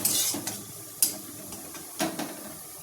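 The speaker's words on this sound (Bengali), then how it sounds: "সেই জন্য আর একটু ভালো করে ভেজে নেবো পেঁয়াজটাকে।" Onions frying in a pan on the stove for a Bengali dal, with a soft sizzle under occasional scraping and stirring clinks from a spatula against the pan.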